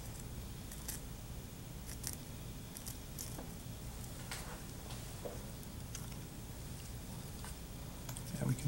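Small scissors snip through tissue during a fetal pig dissection, a quiet, close series of irregular crisp cuts.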